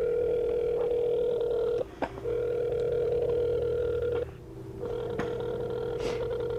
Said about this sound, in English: Daewon Song answered the phone